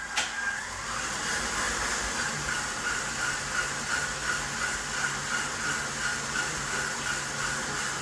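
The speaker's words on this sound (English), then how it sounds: "You want to let the mixer run about 3 to 5 minutes depending on the temperature of your butter" Stand mixer whipping butter and sugar together, running as a steady, close whirring drone with a faint rhythmic pulse from the beater, after a brief knock at the start, with no talking.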